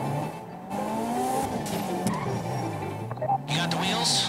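An armoured Kuruma car drives in GTA 5, its engine humming and shifting pitch with changing revs, steady and close, while people talk over it.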